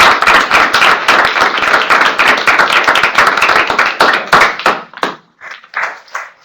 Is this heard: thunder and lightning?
no